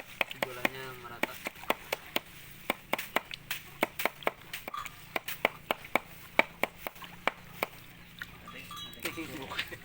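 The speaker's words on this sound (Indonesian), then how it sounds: "Langsung saja kita campur. Aduk sampai gulanya merata." A stick stirs sugar and Yakult into a bucket of livestock feed mixture, making a steady series of sharp, rhythmic knocks and scrapes against the container, close by, over quiet background noise.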